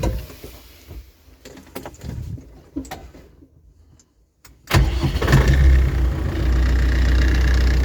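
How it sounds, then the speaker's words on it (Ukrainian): A DongFeng DF-244/404 mini tractor engine cranks with a few short bursts, then catches and runs steadily at a loud, rumbling idle for several seconds. "зараз потрібно завести трактор"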